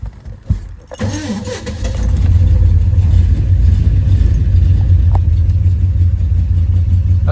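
A Ford F-250 truck engine with a replacement carburetor cranks, catches and starts, then settles into a steady, loud low idle that runs on without a break.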